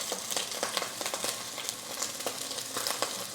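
Crispy rice fries loudly in a pan for tuna tartare, a dense crackling sizzle with rapid popping bursts, close and continuous with no talking.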